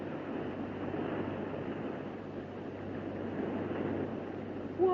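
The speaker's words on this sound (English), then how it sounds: "Water rushing around the elevator shaft." A radio drama sound effect of water rushing around an elevator shaft, as if after a submarine lock breaks: a steady, dense roaring wash of noise that holds evenly, with a faint squeal right at the end.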